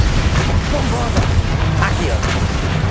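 Bombarda spell blasting in Hogwarts Legacy, a heavy low boom rolling through a noisy battle with shouting voices over it.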